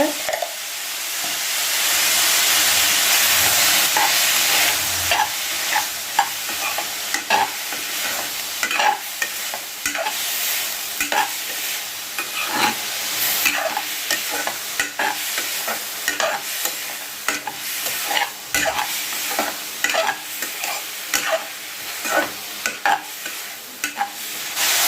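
Grape thokku sizzles steadily in hot oil while a spoon scrapes and stirs the pan in repeated strokes, continuous and close, with no talking.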